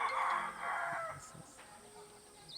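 A rooster crows loudly nearby, followed by softer clucking from chickens in the background.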